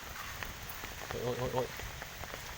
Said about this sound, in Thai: ฝนตกแรงมาก ประมาณนี้เลยทุกคน